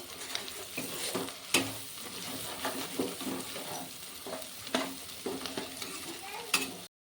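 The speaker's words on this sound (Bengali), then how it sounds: "এখানে দিয়ে দিচ্ছি 5-6 কোয়া গোটা রসুন।" Five or six whole garlic cloves frying in a pan for a rustic chicken dish, hissing with a steady sizzle, punctuated by repeated scraping stirs and a final clatter before sudden silence.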